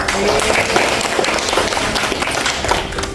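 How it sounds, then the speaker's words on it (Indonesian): A class applauds a presenter after a lesson on commercial and rural banks, giving dense, steady clapping from many hands throughout, with faint voices mixed in beneath it. "Boleh tepuk tangan dulu."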